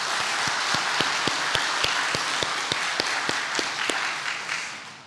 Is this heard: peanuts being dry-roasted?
no